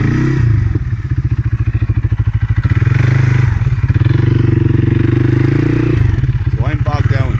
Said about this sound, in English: Low box, 4-wheel drive on. So there we are, spinning now.